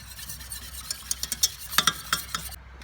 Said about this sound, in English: whisk it while it comes back up to the boil